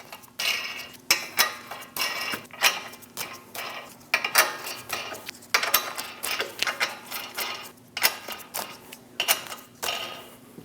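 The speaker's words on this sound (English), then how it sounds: "Install the 8 lug nuts by hand." Lug nuts are threaded by hand onto a front wheel of a Chevrolet Express 2500 van, producing irregular close metallic ticks, clicks and rattles in quick bursts over a faint steady hum.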